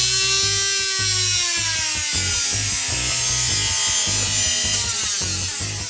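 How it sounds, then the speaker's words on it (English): Sandpaper rubbed by hand over the plastic edge of a paintball pod, a continuous loud rasping scrape with a rhythmic back-and-forth pulse, close and alone with no voices. "get a sandpaper and just rub it over the sandpaper"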